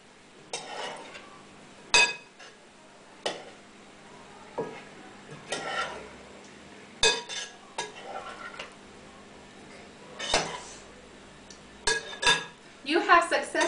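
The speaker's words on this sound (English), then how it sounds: "You're going to grab your spoon and gently mix your ingredients together." A spoon mixing pico de gallo ingredients in a bowl, giving sparse clinks and taps spread irregularly over several seconds, close and moderately loud, ending in a quick cluster of clatter.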